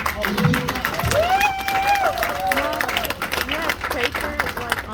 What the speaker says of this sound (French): Applaudis la famille.